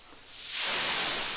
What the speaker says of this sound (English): going from a white noise to a blue noise all the way up there